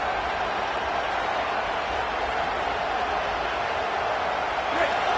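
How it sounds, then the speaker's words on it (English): Steady roar of a packed football stadium crowd at a Miami vs Michigan game, a dense continuous wash of cheering and noise, with no distinct voices standing out. "This crowd bringing the energy and noise early."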